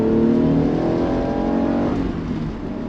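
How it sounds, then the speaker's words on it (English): A 1995 Acura NSX-T with a manual gearbox and VTEC revs hard while driving, its engine note climbing in loud harmonic sweeps, then easing slightly near the end, with no one speaking. "This car loves a rev."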